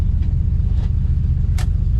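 A 1968 Chevrolet Camaro with a four-speed manual idles close by, a loud, deep, steady rumble with a few faint clicks on top.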